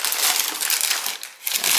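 A brown kraft paper grocery bag crinkles and rustles continuously as it is handled up close. The crackling is loud and broadband, with brief dips, and no talking is heard.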